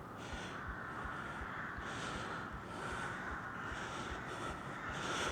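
Crows caw repeatedly in short, harsh bursts over the steady, continuous hum of a DJI Mini 5 Pro drone in flight.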